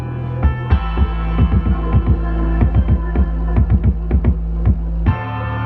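A deep, booming tuned 808 kick drum hits repeatedly in a steady beat pattern over a sustained low hum, loud and close with tonal low-end tails.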